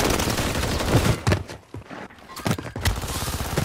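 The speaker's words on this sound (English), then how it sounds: "How does my submachine gun get put on single shot?" Submachine gun in an online shooter game firing in single-shot mode: a loud series of separate sharp cracks with short gaps between them, each followed by a brief echo, mixed with other gunfire and explosions from the battle.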